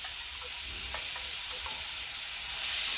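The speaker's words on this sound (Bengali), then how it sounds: "পেঁয়াজ বাটাটাকে আমি ভালো করে ব্রাউন করে তেলের মধ্যে নাড়াচাড়া করব।" Onion paste sizzles steadily in hot oil with black cumin, a dense, close frying hiss broken by soft scrapes and stirring, with no talking.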